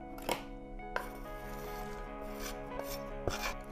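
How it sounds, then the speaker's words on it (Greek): Chopped couverture chocolate with 52% cocoa being folded gently into a batter, heard as soft scraping and rubbing strokes against a bowl with a few light knocks. "Με απαλές κινήσεις ανακατεύουμε να ενσωματωθεί καλά στο μείγμα."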